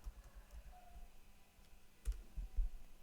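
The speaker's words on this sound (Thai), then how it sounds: "เราพิมพ์นามสกุลให้ด้วยครับ" A computer keyboard is tapped in a few sparse, faint clicks, mostly clustered toward the end, against a quiet room background with no talking.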